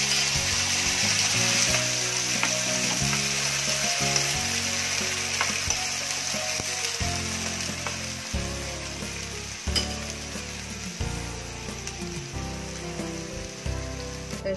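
Curry leaves crackle and sizzle in hot oil after mustard seeds, a dense, continuous frying hiss with spattering pops, heard up close for a long stretch without talk.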